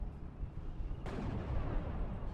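Artillery fire in the wartime strategy game Steel Division 2: a single heavy boom about a second in, followed by a rumbling tail over steady low battlefield noise, with no talk.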